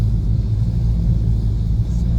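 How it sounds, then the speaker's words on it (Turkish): BMW 320d with an N47 diesel engine, 217,000 km, EGR blanked off, idling with a deep rumbling drone whose revs surge up and drop back unevenly with no pedal input, steady and close. "Araba böyle gaz verip bırakıyor, gaz verip bırakıyor, gaz verip bırakıyor"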